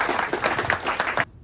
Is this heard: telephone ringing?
no